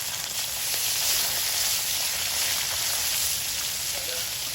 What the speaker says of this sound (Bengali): প্রথমে লাটা মাছগুলো ভেজে নেবো শক্ত করে